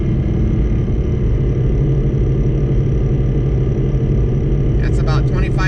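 A car fitted with a Calimer Stage 3 clutch runs at a steady drone with a deep rumble and a constant low hum from inside the cabin, before a downshift, with a voice breaking in near the end.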